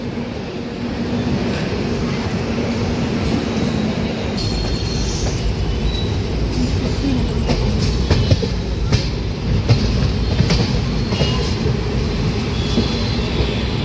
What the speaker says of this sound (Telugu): మన ట్రైన్ అయితే స్టార్ట్ అయిపోయింది from Secunderabad railway station platform number one నుంచి